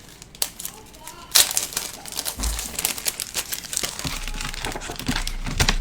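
Card stock pressed through an embossing folder gives repeated crinkling, crackling and crunching sounds close up, with a few louder thumps and low rumbles.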